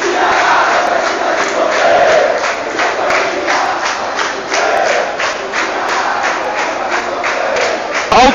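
A Ceará football crowd protests against the club board with loud, continuous massed chanting and shouting that rises and falls in rhythmic bursts, under a heavy police presence outside the stadium.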